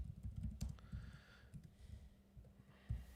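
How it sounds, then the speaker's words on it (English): Someone types on a computer keyboard at a desk during a live coding demo, with soft, irregular clicking keystrokes arriving in short bursts, fairly quiet and close, with no talking over them. "And now maybe I can just type it up."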